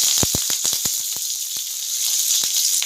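Curry leaves and mustard seeds drop into hot oil for a mutton sundal curry, with an intense hissing sizzle and a quick series of sharp spattering pops, close and loud.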